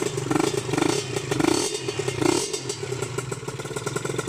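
A cold Kawasaki Serpico two-stroke motorcycle engine revs in rapid bursts, loud and close, its buzzy tone rising and falling with each twist of the throttle.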